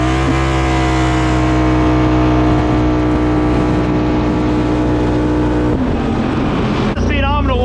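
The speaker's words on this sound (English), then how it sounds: "Let's do a roller start, because she was just bouncing off the rev limiter the whole time." A Can-Am or CFMoto off-road vehicle engine revs hard near the rev limiter on a rolling start, a loud steady drone that shifts pitch near the end, with some speech mixed in.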